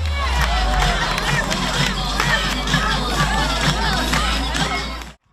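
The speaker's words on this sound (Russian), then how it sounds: "Каждое действие участников сопровождается овацией." Spectators in packed stands cheer and applaud at a team relay competition, a dense, continuous roar of crowd noise with clapping and shouts, steady and fairly loud from start to end.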